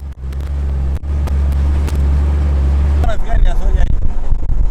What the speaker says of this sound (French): On voyage dans la benne d'un camion